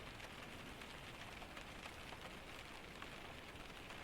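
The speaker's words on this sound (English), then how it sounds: "Rain." Steady rain falls during a storm outside a cozy Scandinavian cabin, a continuous broadband hiss of drops on surfaces with no pauses, even and fairly soft throughout.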